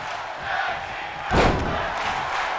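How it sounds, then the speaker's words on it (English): A wrestling crowd in WWE 2K22 roars in a tag team match, a broad arena din that swells with a thudding impact and a burst of cheering partway through. "The crowd is screaming tag team wrestling"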